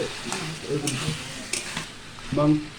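Country chicken curry cooks in a pot in a village kitchen as a spoon scrapes and stirs the thick mixture, soft sizzling beneath a few uneven clanks of metal against the pot's rim.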